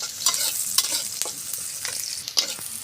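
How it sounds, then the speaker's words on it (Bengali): Onions frying in hot oil with cumin seeds in a heated wok, giving a steady close sizzle broken by short scraping stirs, with no talking. "এবার সুন্দর করে পেঁয়াজটা ভেজে নিব।"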